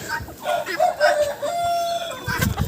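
An adult rooster crows with one drawn-out, wavering call, preceded by a few choppy clucking notes and followed by shorter bursts, nearby and fairly loud.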